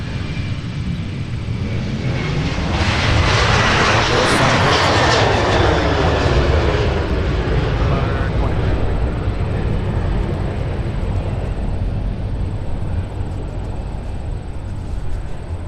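An Aer Lingus airliner departing Minneapolis–Saint Paul airport at night roars past, with loud jet-engine thunder swelling early and a falling whine as it moves by, then a sustained rumble.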